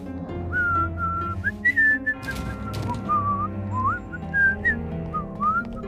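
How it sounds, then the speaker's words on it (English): A cartoon character whistling a wavering, unhappy tune, a clear melodic line of sliding notes over soft background music, close and alone without speech. "Fine, but I'm gonna whistle"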